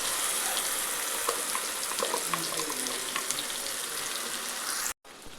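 Ground paste sizzling in hot oil in a pan with whole spices such as cardamom, star anise and bay leaf, a dense steady fry close up that stops briefly near the end.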